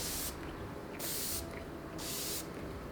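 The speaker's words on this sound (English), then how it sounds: "I'm gonna go ahead and set my face with my favorite drugstore setting spray" NYX Bear With Me setting spray misted onto a face in three short bursts, each a soft, close hiss, separated by brief pauses.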